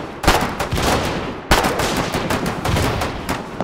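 Rapid machine gun bursts in the war game Foxhole, loud dense volleys of gunfire with a sharp new burst partway through, continuous and unbroken by speech.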